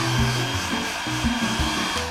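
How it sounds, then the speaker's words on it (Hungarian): A hair dryer running steadily, a continuous close whirring hum with a broad airy hiss over the short stretch, no voices. "akkor így működik a hajszárító"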